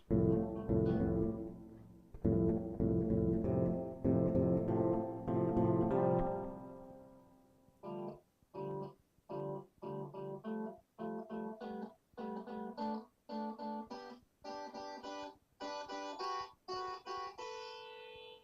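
A pedal steel guitar plays three-note chords, first long, ringing sustained chords, then a steady series of short, evenly spaced plucked chords with no talking.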